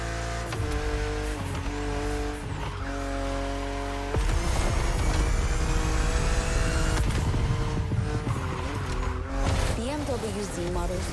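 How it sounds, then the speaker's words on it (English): BMW Z roadster engine in the racing video game The Crew Motorfest, a close revving engine climbing through gear changes and then sustaining a strong roar during a race, with someone talking throughout. "BMW Z models are what we call roadsters."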